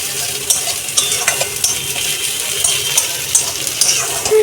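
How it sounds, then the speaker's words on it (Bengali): Onions fry in hot oil while a utensil stirs them, giving a steady close sizzle broken by frequent light scraping clicks against the pan. "আর পেঁয়াজটা একটু ভাজা ভাজা হলে"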